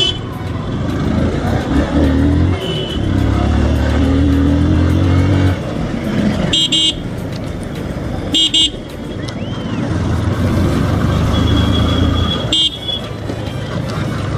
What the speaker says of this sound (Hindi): भाई ट्रैफिक देख रहे हो कितना है,